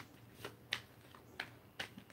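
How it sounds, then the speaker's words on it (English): A Yu-Gi-Oh card deck being shuffled by hand, quiet riffling bursts repeating about every half second, close and soft with no talk. "then I also shuffle, again, the same way I started with"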